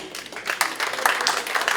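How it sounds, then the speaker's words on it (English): Guests at a charity ball auction break into a short burst of applause, steady scattered clapping with a voice faintly under it. "Give a round of applause, please."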